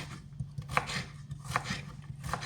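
A knife chops salad ingredients on a board, several soft thuds and crisp cuts arriving at an irregular, unhurried pace, close but fairly quiet, with no one speaking.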